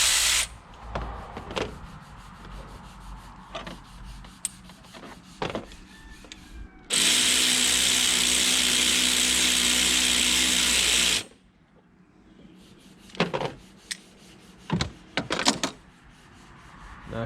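A part being tightened back on during a car head gasket repair gives a loud, continuous whirring burst lasting about four seconds, bracketed by scattered clicks and scrapes of tools on metal.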